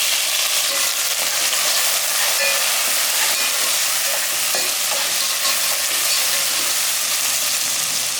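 Two large tomatoes dropped into a hot pan of sambar base with asafoetida, producing a steady, loud sizzle and frying hiss that runs unbroken and close by, without talk.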